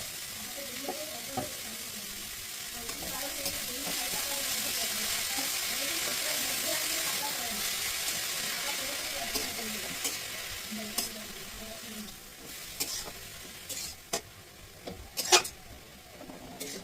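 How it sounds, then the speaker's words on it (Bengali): Kalai greens (saag) frying in a pan, a soft continuous sizzle with scraping stir strokes and a few sharper clicks near the end, fairly quiet and with no talking over it. "শাকটা ভাজা চলছে"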